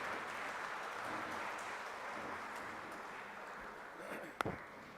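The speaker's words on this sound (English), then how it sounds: "give a big round of applause" Audience applause closing an endowment lecture at a valedictory function, a steady, moderately distant wash of clapping that holds for several seconds, with one sharp knock near the end.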